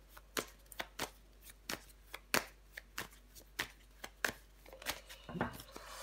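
Tarot cards slapped and slid down one by one onto a table, a dozen or so crisp papery snaps spaced irregularly, close and fairly quiet, with a brief rustle of cards near the end.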